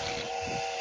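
Train horn in the PUBG video game, a brief sustained harmonic blast, loud and steady for under a second with no talk over it.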